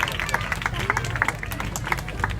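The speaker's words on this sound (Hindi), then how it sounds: "जोरदार तालियां बजाइए आज के अभिषेक के लिए।" Devotees clap during a temple gathering for a Kirtanananda Swami disappearance day abhishek, steady moderate applause with crisp individual claps over a murmuring crowd.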